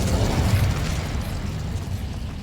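An Incendio fire spell cast in Hogwarts Legacy: a loud, close, rumbling fiery burst that roars at the start, then tapers into a softer crackling wash.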